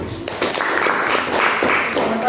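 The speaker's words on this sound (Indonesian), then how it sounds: "kita berikan tepuk tangan yang meriah kepada kelompok 1" Classroom applause for a student group after their presentation, a short burst of hand clapping from a room of students over a steady background.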